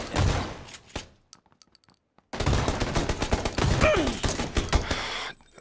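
Heavy gunshots ring out in PUBG, a burst of firing, then near silence with a few faint clicks, then a loud stretch of repeated shots and impacts before cutting off.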